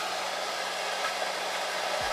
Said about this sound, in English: I'm gonna put my blow dryer on cool and just run a little bit of air along my hairline.